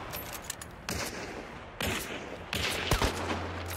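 Mosin rifle shots in a shooter video game: three sharp, loud reports roughly a second apart, each with a short echoing tail, followed by a low hum, with no voice.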